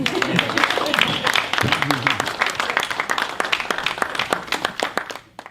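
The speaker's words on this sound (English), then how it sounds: "You guys can clap your hands first." Guests at a women's day pamper party in Brisbane clap their hands in a lively, uneven burst, with voices mixed in among the claps.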